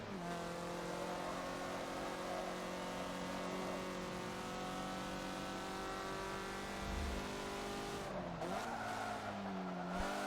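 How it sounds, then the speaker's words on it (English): Mazda MX-5 race car in a league championship race at Road America climbs the hill past the final corner, engine droning steadily with rising harmonic pitch and a brief gear change near the end, loud and continuous. "Blind Ace past the final corner, heading up the hill to take 4th place in the first race here."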